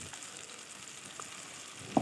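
Tomato masala in a pan gives off a faint, steady frying hiss, with a single soft clink near the end.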